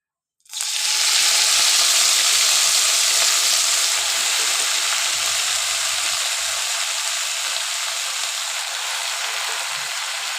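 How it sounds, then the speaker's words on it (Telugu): Gongura leaves hit hot oil in a pan for chutney, setting off a loud, steady broadband sizzle that starts abruptly and holds for about ten seconds, fading slightly toward the end, with no voices over it. "ఇప్పుడైతే ఆయిల్ హీట్ ఎక్కింది. ఇప్పుడు ఫస్ట్ మనం గోంగూర అయితే వేసుకోవాలి."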